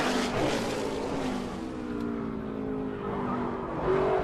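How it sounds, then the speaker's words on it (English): Race car running laps in practice at a stock car track, engine droning steadily with a rising high-pitched tire squeal through the bottom of turn one, moderately loud and continuous. "can almost hear the tires squealing as he gets to the bottom"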